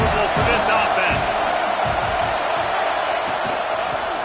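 A loud, dense football stadium crowd at a Florida versus Tennessee game roars continuously, a thick wall of cheering and shouting that never lets up, with a commentator talking over it.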